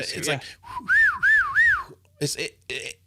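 A person whistles three rising and falling notes in a wavy pattern, imitating a gecko call, with brief breathy vocal sounds before and after.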